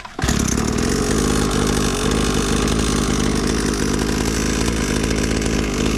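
Small SYX MOTO kids' 50cc dirt bike engine catches right away and keeps running, a loud, close, buzzy two-stroke-like drone holding steady with slight revving throughout.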